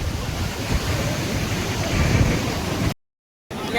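Sea waves wash onto a beach in a loud, steady surf roar, mixed with gusty wind on the microphone. The sound cuts out abruptly for a moment near the end, then resumes.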